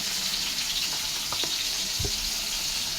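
Okra coated in salt and turmeric frying in oil for a fish curry, giving a steady, even sizzle throughout with a few faint clinks and stirring scrapes near the middle.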